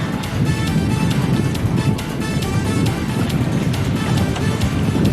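Wind blowing across Helene Lake while fishing from a boat, a constant loud roaring buffet with rumbling gusts pressing on the microphone throughout, along with faint water and boat noise.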